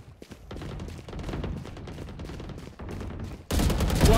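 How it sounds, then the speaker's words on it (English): Rapid gunfire from the video game Valorant, a string of sharp shots in quick succession that swells into a louder, denser burst near the end. "why are you shooting me?"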